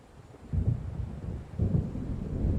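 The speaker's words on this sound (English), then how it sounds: "It seems there's a storm coming." Low rolling thunder from a storm building over Cauldron Lake in Alan Wake Remastered, two heavy rumbling swells close together over a dull rain-like wash, with no voices.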